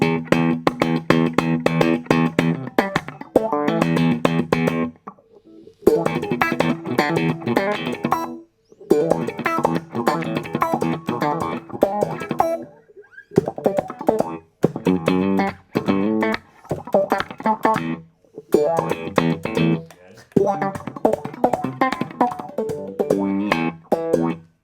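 Slap-style electric guitar run through an auto wah filter on Neural DSP Archetype Cory Wong, playing loud percussive rhythmic phrases in bursts separated by short gaps, with a bright, swept, distorted-edged tone.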